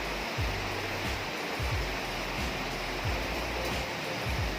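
Heavy rain pours down in a dense, steady roar, with soft low thuds now and then and no talking.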